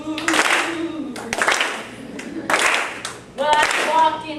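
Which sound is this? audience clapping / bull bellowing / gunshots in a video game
audience clapping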